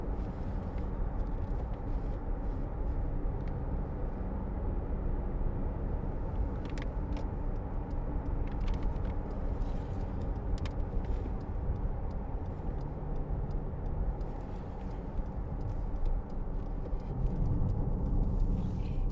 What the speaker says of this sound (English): Lovely gear change.